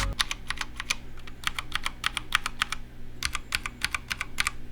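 Rapid keystrokes on a Drop ENTR mechanical keyboard with an aluminum bottom, crisp clacky bursts in uneven runs with short pauses between, close and clear over a faint low hum.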